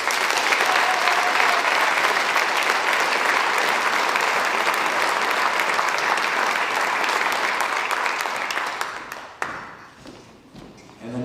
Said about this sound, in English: Please give a round of applause to Dakota and Fabio.